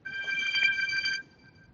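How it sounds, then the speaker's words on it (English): A telephone rings during a Morrowind game stream: a bright electronic trill with steady harmonic tones, lasting about a second before cutting off, with faint room noise afterward. "Nope, not answering that phone."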